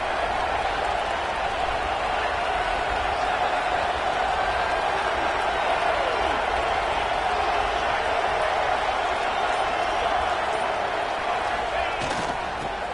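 Dense, continuous roar of a football stadium crowd cheering for Texas Tech on a third down, loud and unbroken throughout, with faint voices buried in the din.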